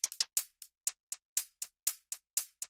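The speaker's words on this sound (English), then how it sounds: "For the hi-hats, we just have one Oliver loop and a highly edited Origin samples loop." Hi-hat loop layering an acoustic-sounding Oliver loop with a heavily edited Origin Samples loop for a dark alt-R&B track, about a dozen crisp, bright hits in an uneven syncopated pattern, each with a short decaying tail, alone and close.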